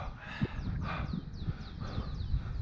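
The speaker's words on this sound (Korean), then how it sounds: "새소리도 들리고" Birds call along a mountain trail during a mountain bike ride, repeating short, high, descending chirps over steady outdoor background noise, with a few low thumps.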